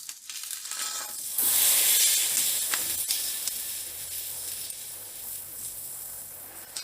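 Food sizzling in a hot pan just after being flipped, a steady close hiss of frying oil that swells briefly and then settles into a constant crackle.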